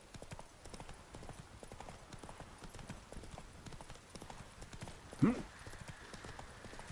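Rapid rhythmic clip-clop of horse hooves galloping steadily in the video game The Witcher 3, with a faint voice and a short sharp sound near the end.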